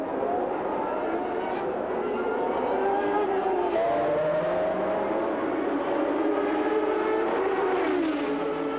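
Formula One cars racing at the 1983 Long Beach Grand Prix street circuit, a steady loud engine drone with rising and falling pitch sweeps as cars pass, continuous throughout.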